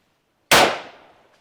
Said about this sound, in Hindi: सामने टारगेट सिंगल शॉट फायर।